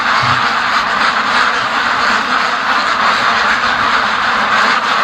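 A flock of free-range ducks quacks in a dense, continuous chorus, loud and close, with steady wind noise running under the calls.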